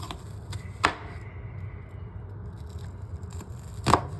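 A knife slices down through the middle of an onion, two crisp separate cuts with a quiet pause between them, close and fairly soft with no talking.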